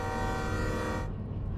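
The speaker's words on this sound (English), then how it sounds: "Blow the horn." A locomotive horn in the train game Derail Valley sounds as one loud sustained chord-like blast that holds for about a second and then cuts off sharply, leaving a short decaying tail.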